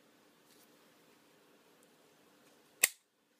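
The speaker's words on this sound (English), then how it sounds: "that recoil spring plunger will snap into place" A Colt 1911 pistol's recoil spring plunger snaps into place with a single sharp, close metallic click that follows a few seconds of quiet handling.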